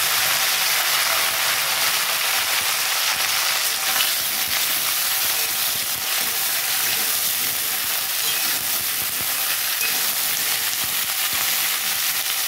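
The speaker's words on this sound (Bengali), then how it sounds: "বন্ধুরা তেলটা গরম হয়ে গেছে, আর আমি কেটে রাখা ভেন্ডিটা দিয়ে ভেজে নেব।" Chopped okra fries in hot oil with a loud, continuous sizzle and hiss that holds steady throughout, with no talk over it.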